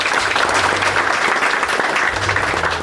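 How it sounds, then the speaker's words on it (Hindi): Guests at an engagement celebration break into steady, loud applause, a dense wash of many hands clapping together close by with no talk over it. "Let us all put our hands together to their love, laughter and happily ever after."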